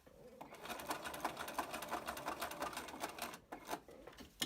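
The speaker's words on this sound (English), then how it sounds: "you're just going to sew across the top of the slit," A sewing machine stitches across the top of a slit on a scrubs top, a fast continuous mechanical whir and needle patter, close and steady for several seconds with a brief pause near the end.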